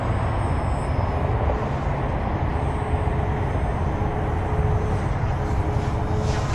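An E-flite Micro Draco RC plane on its maiden flight, running a 3-cell battery at full throttle, gives a continuous buzzing motor whine with a thin high whistle, steady and unbroken throughout.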